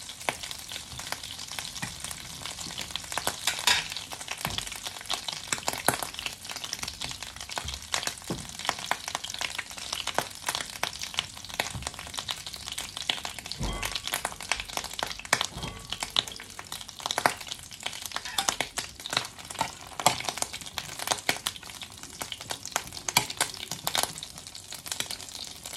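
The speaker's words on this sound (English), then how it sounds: "Just frying my remaining two bread." Steady sizzling and crackling of bread frying in a pan, with occasional louder pops and spatters, close by and continuous.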